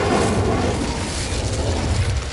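The Incendio fire spell being cast in the video game Hogwarts Legacy, producing a loud, sustained fiery burst with booming rumble throughout.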